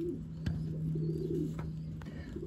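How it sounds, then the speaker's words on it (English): Racing pigeons boxed up for shipping coo softly and steadily at close range, a low continuous murmur with a few sharper clicks. "Racing pigeons"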